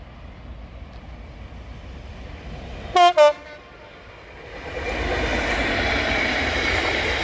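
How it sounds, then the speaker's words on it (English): Freight train 6N61 at Colton South Junction, two short horn blasts followed by the low rumble of wagons building as the train rolls past, heard from trackside. "Here is 6N61, passing through Colton South Junction."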